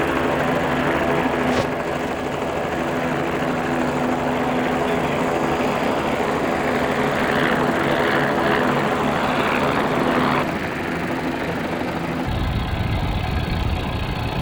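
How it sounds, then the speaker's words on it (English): A helicopter flies near an airport runway, a steady loud engine and rotor drone running continuously for the whole stretch, with its low rumble dropping away near the end. "the helicopter is already airborne to get air-to-air shots of the climb out"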